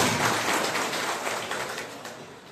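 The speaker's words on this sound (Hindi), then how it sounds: "एक बार जोर से ताली बजा के आदरणीय भाई साहब को स्वागत करता हूं" Audience applause greeting the visiting governor of Sikkim at a village gathering in Sirohi, a dense steady patter of many hands clapping continuously at fairly even loudness, fading slightly toward the end.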